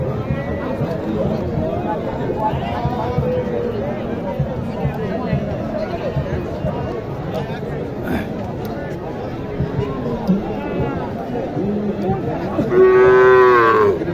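Cattle at a crowded livestock market in Naogaon, with a loud drawn-out moo near the end over constant crowd babble and nearby voices talking.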